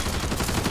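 Rapid gunfire in the zombie shooter Back 4 Blood, a dense, close burst of shots in a fraction of a second.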